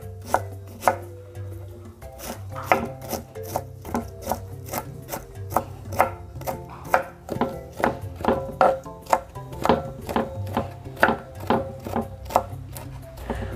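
Onion being roughly chopped with a knife on a board gives fast, regular, close knocks, dozens of crisp chops in a steady rhythm without speech.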